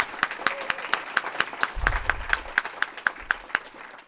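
An audience claps in a quick, steady rhythm, the claps evenly spaced and fairly close, with a brief low thump partway through.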